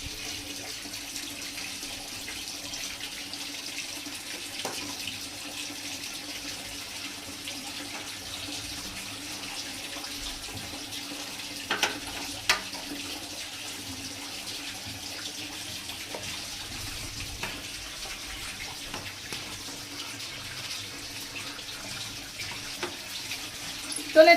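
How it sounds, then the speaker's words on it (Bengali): Water pours steadily from a tap, fed by an electric water pump motor running nearby, a constant even rush with a faint low hum beneath it and a few small knocks. "ওইদিকে মোটর চলছে জলের।"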